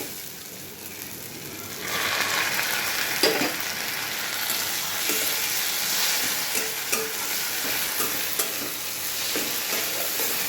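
Fish frying in oil with browned onions in a pan for a Bengali lote fish dish: a loud, continuous sizzle that swells after a quiet start, broken by occasional spatula scrapes and stirring clatter, with no talking.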